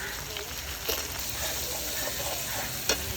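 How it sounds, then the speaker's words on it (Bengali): Cumin and coriander paste, chilli paste, turmeric and salt frying together in a pan for a Bengali dish, a close steady sizzle with a couple of sharp scraping stirs, no voices. "সব মশলাগুলো এবারে ভালো করে একটু কষিয়ে নেব।"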